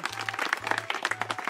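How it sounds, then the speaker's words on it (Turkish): Children applauding themselves at a show, a short burst of quick scattered claps with a repeating low hum underneath. "Alkışlayın kendinizi."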